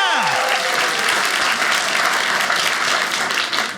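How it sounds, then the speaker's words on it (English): A comedy club crowd bursts into loud, dense clapping that holds steady throughout, briefly overlapping a fading voice at the very start. "Clap your hands."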